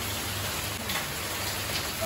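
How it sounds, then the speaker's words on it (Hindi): Steady rain pours outside during a monsoon shower, a continuous broadband hiss of drops hitting surfaces, moderately close and even throughout with no voices. "तो गाइस बाहर हो रही है बारिश"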